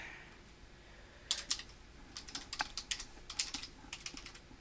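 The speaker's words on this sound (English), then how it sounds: "nice typing." Quick bursts of typing on a computer keyboard, with clusters of sharp, close clicks separated by short pauses over a faint background hum.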